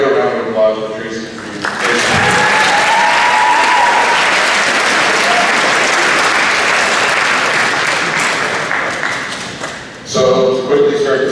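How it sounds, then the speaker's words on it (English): At an athletic awards ceremony, an audience breaks into loud, sustained applause, dense clapping that swells and holds for several seconds before tapering off, with speech heard before and after. "So quite a good round of applause for Tracy."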